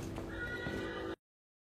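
A horse whinnies loudly and close inside a horse stable, a long wavering neigh over hoof clatter and shuffling, cutting off abruptly after about a second.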